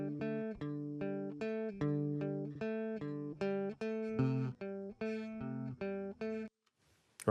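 A solo electric guitar repeats a punk and classic rock riff. Quick picked notes come in steady, choppy bursts for about six seconds, then the riff stops abruptly. It is up close and plays alone.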